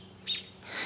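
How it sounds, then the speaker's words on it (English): An American robin gives a short, faint chirp from a vegetable garden, a brief high call with soft outdoor background and another light call trailing after. "You got to see our little garden guests, the robins"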